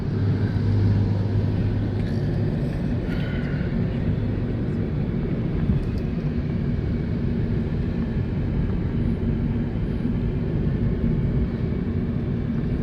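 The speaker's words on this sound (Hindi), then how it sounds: "काफ़ी ट्रैफिक यहाँ से जाता है।" Road traffic streams past on a Karachi road toward the Super Highway, a loud, constant roar of engines and tires that never lets up, with a passing horn-like tone early on.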